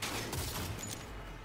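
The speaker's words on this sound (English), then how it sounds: "Oh, wait, this is a charge gun." Charge gun firing in Cyberpunk 2077, a dense, loud burst of rapid gunfire with a low rumble, continuous across the short moment.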